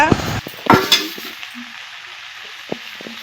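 Chopped onion, grated ginger and crushed garlic go into a hot wok for a lote fish dish, bringing a few loud scraping, clattering stirs that settle into a quieter sizzle with one later tap.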